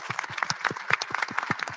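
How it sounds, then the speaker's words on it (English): A small audience at a community panel event claps for the panelists with distinct, quick, rhythmic handclaps, fairly close and moderately quiet, with no voices. "A big round of applause for our panelists."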